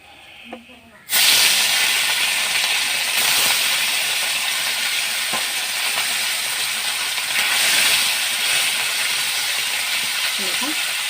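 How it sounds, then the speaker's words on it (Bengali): Small mourala fish hit hot oil after a brief quiet moment, and a sudden loud hissing sizzle then holds steady, swelling slightly midway, with faint kitchen clinks. "দেখুন, আমি অল্প অল্প করে মাছগুলোকে ভেজে নিচ্ছি।"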